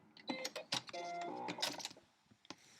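A sewing machine back stitches to lock a French seam on a small pillowcase, giving a few short irregular bursts of mechanical whirring and clatter, fairly close and moderately quiet, with no voices.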